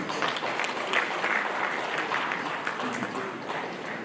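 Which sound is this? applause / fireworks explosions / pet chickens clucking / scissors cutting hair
applause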